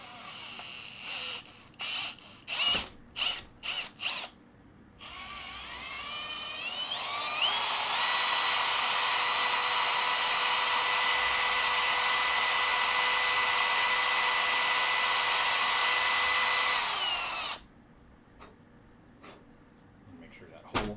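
A power drill boring a 3/8 inch hole in an airsoft gun part, first a few short bursts, then one long steady high whine lasting about ten seconds before stopping, close and loud.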